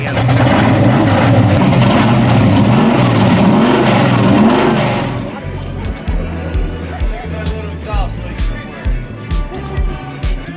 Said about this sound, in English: Here is a great looking and sounding 68 Camaro.